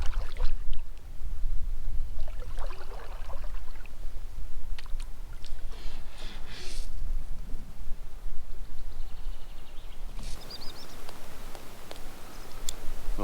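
Packrafts paddled across a lake in the Swedish wilderness of Glaskogen Nature Reserve bring near water splashes and paddle strokes over a constant wind-like rumble, with irregular drips and knocks.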